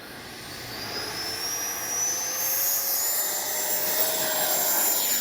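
Freewing 90mm Zeus RC jet's electric ducted fan screams through takeoff, a steady high-pitched whine rising in pitch and growing louder as the model climbs away, with no voices.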